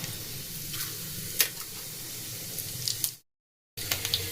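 Cumin seeds and dried red chili sizzle in hot cooking oil for a vegetable khichuri, a steady close crackle that cuts out abruptly for a moment and then resumes.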